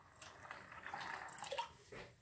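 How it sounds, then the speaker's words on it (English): Water poured from a container onto deer corn soaking in a bucket, a soft splashing trickle in a few short bursts, fairly quiet and close, with no talk. "I'm gonna have to add some more water to it"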